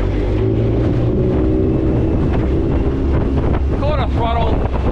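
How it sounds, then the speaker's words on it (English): Quintrex F370 Outback Explorer aluminium boat at quarter throttle through choppy water, a steady loud outboard drone mixed with wind buffeting the microphone and water slapping the hull, continuous throughout. "at 26 kilometers an hour, the boat doesn't feel like it's working hard"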